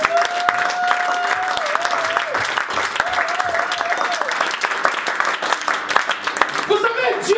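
Sustained applause from a church congregation during a French-language sermon, dense clapping throughout with a voice speaking or calling out over it.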